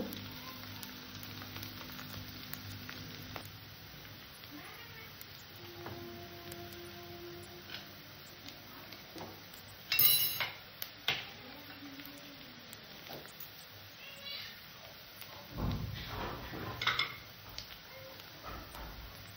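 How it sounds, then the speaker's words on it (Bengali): Chopped garlic fries lightly in oil in a pan, giving a faint, steady sizzle broken by a few louder clinks and scrapes of stirring midway and near the end. "রসুনটাকেও আমি হালকা করে ভেজে নেব।"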